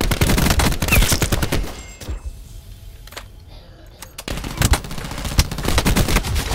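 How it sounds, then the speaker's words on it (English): Rapid automatic gunfire in Call of Duty Black Ops 4 Control league play comes in loud, close bursts, falls quiet for about two seconds with a few isolated shots, then resumes in another sustained volley. "you're just watching him shoot me"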